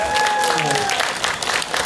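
Warm applause from an audience at a Keelung public event, honouring a city councillor; dense, steady clapping fills the whole stretch at close range, with a voice faintly beneath it.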